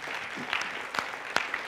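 A church congregation applauds in praise of Jesus during a Christmas sermon, a soft, steady wash of scattered clapping with a few sharper claps standing out, moderately distant.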